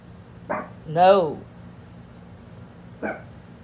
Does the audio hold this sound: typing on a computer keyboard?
no